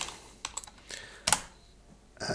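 Quick bursts of keystrokes on a computer keyboard, close and clear, in a few short clusters separated by brief pauses, with no talking over them.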